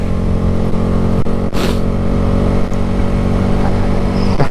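A red Honda Grom motorcycle engine drones loudly at full throttle in fourth gear, around 47 mph, a steady close buzzing roar with wind rush and brief gusts.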